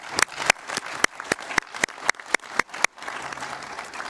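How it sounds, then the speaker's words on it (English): An audience gives a chorus a round of applause at a board meeting: sharp, fairly close hand claps in a loose, uneven rhythm, fading into a quieter room hum after about three seconds. "how about another round of applause for our chorus?"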